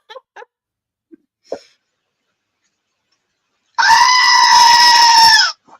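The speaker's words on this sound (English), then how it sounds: "screaming goat." Screaming goat sound effect: one loud, harsh, sustained bleating scream lasting under two seconds, close and dominant, preceded by a few faint short clicks and breaths.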